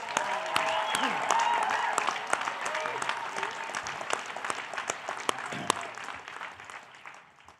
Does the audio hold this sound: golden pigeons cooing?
no